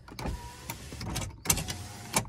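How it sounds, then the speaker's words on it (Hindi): A car's electric power window motor, previously faulty and straining when raising the glass, whirs in short bursts with clicks and thumps, fairly close and moderately loud with no talk. "तो भाई जो ये हमारे पावर विंडो है, एक दो बार खराब हो लिए हैं"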